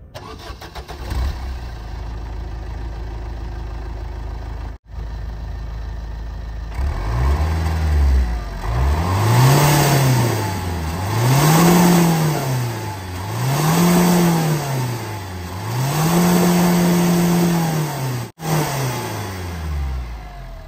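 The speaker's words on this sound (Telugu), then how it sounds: "ఈ సైలెన్సర్ టర్బో విజువల్ ఇన్స్టాలేషన్ చేయకముందు అయితే ఎగ్జాస్ట్ నోట్ అయితే ఒకసారి వినండి కార్ది." A car with its stock silencer starts up, then its exhaust note swells and falls through four or five repeated revs before settling back to idle, loud and close.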